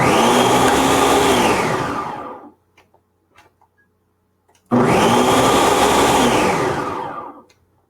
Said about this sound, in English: I told you I've never used this blender before